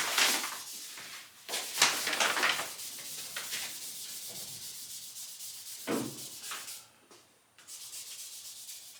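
Paint on a 1977 Camaro Z28 is wet sanded by hand with 2000 and 3000 grit paper, giving soft, close rhythmic rubbing strokes that rise and fall with short pauses.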